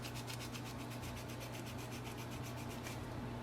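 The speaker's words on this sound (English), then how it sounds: "So you just have to rub the print head like this." A cleaning wipe damp with alcohol rubs back and forth over the print head of an HP DeskJet 4310 printer. The scrubbing is close and steady, with rhythmic strokes that repeat in quick, even pulses.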